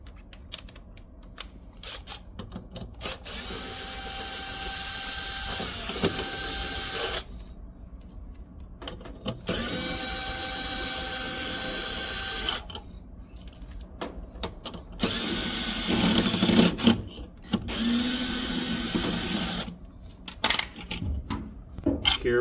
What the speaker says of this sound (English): It's held together by 3 screws. So we're gonna take those out right now